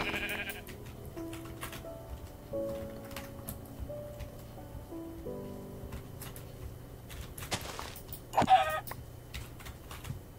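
Several sheep bleats in a video game come at intervals over a steady low background, with a brief louder burst near the end.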